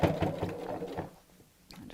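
Stitching on a tote bag, a sewing machine gives a quick close burst of rapid whirring that dies away and briefly starts up again at the end.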